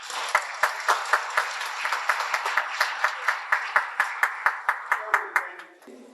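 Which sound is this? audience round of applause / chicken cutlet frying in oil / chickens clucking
audience round of applause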